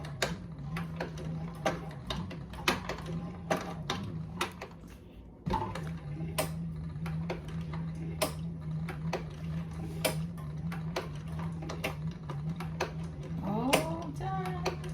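A sewing machine stitches a leather shoulder strap in a laundry room, ticking in quick, uneven bursts of needle strikes over a steady motor hum, with a brief pause midway before stitching resumes.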